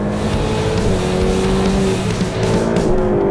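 A Ferrari 488 Pista engine revs hard and continuously, a loud, high-pitched sustained roar with shifting pitch and no pause.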